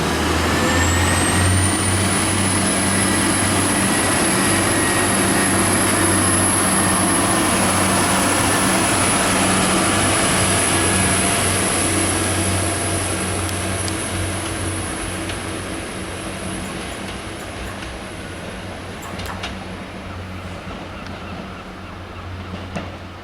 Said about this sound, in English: There goes 175 103, I think it is. Working the 1455 Transport for Wales service